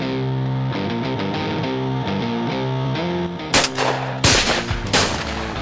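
Two sharp, loud gunshot blasts ring out near the end at the Shooting Hunger shooting event, heard over a steady music bed.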